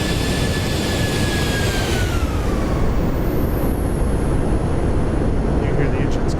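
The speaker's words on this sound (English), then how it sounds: "You hear the engines cutting off right there." Twin jet engines spooling down to idle in the X-Plane 12 flight simulator, a loud roaring whine with high tones sliding downward, under broadband rushing noise, with talk over it.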